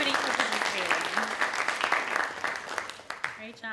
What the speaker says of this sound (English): Another round of applause for this panel